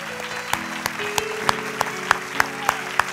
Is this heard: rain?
no